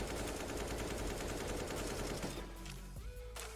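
Rapid, continuous bursts of gunfire in CS:GO rattle densely for a few seconds, then thin out, fairly faint and without speech.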